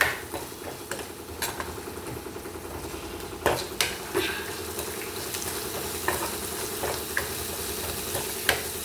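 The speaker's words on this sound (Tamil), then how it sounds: "நான் லைட்டாக உப்பு போட்டு வதக்கிட்டேன்" Onion and garlic sautéing with a little salt in a pan, a steady soft sizzle with occasional clinks and scrapes of a spoon stirring, close and moderately quiet with no talking.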